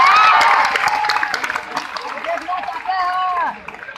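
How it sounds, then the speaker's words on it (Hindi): An audience at a Hindi-language business seminar claps and cheers loudly at first, the applause thinning out over a few seconds as voices call out over it. "तालियां हो जाए।"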